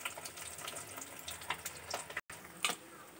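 Pabda fish fry in hot oil with a faint, steady crackle and scattered sharp pops. A brief dropout of silence breaks the sizzle partway through, and no voices are heard.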